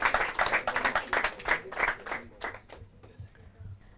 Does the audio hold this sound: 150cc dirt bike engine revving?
no